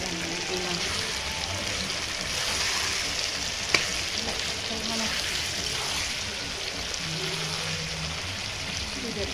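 Spiced curry frying with chilli powder in a pot on a clay stove, an even hiss and sizzle with occasional stirring and one sharp knock, close and steady, with faint background voices.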